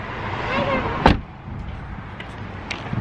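A car door slams shut once, a sharp, close thud partway through, with quieter rustling and faint clicks before and after.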